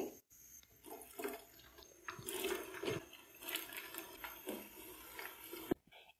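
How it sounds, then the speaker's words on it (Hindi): Potato French fries frying in oil make a quiet, continuous bubbling sizzle with faint crackles and splashes, heard alone and close by. "इसी तरह हम दूसरा पैच भी फ्राई कर लेंगे"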